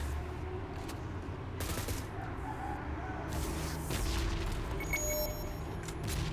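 Rapid bursts of gunfire in a solo-versus-squad battle royale video game, a steady dense clatter of shots with occasional sharper cracks running throughout at even loudness.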